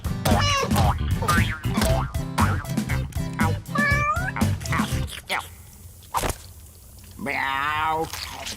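A Smurfs cartoon character's voice imitates a cat, giving several exaggerated, wavering meows amid lively Indonesian-language animated dialogue and music, with a louder drawn-out meow near the end.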